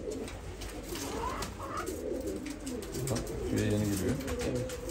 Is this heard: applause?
no